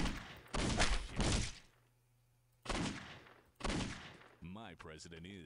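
Gunshots in Postal 2, a few heavy blasts in clusters with decaying tails and quiet gaps between them, ending in a short burst of another sound.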